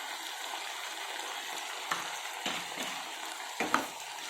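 Ginger garlic paste frying in a pan, a steady close sizzle with occasional stirring scrapes and taps of a spoon, no voices.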